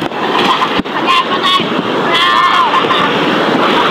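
Loud, rushing surf at flooded Baseco Port Area, Manila, with wind buffeting the microphone, continuous over four seconds, a brief thump near the start.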